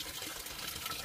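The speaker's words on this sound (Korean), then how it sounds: "땅 밑으로 지금 물이 흘러내리고 있어요" Water trickling and gushing underground below a small spring beside a rural vegetable garden, a steady close rushing flow throughout with no talk.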